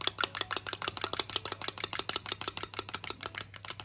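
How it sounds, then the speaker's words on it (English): Eggs are whisked briskly in a bowl for a small fruit-cake batter, a fast, even run of close, sharp clicks and taps at steady rhythm with no talking. "give it a little whisk"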